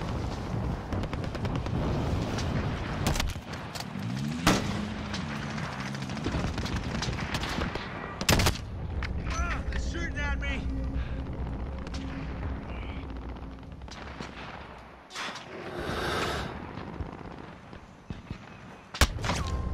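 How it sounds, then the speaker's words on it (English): Call of Duty Warzone team deathmatch gunfire, with dense bursts of automatic shots, sharp single cracks and explosions packed together, loud and continuous over game noise. "Where the hell is this guy shooting me from?"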